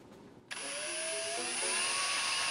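A safe-cracking robot's drill biting into the steel of a safe, a high whining motor that starts suddenly, then holds as a steady, loud grinding whine with shifting pitch as it cuts.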